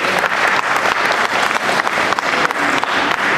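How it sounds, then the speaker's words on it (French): Dense, steady applause from a concert audience, loud and continuous from start to finish, with no break in the clapping. "sous vos applaudissements s'il vous plaît"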